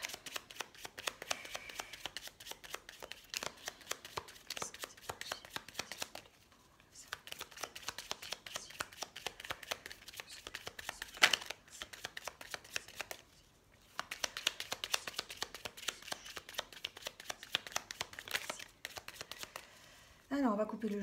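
Oracle cards being shuffled and cut in a steady stream of riffling, flicking card noise, loud and close, with two brief pauses partway through and a short burst at the end.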